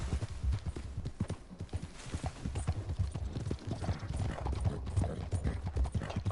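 Horse hooves clip-clop in a steady, close, rhythmic gait in Red Dead Redemption 2, continuing throughout with no speech over it.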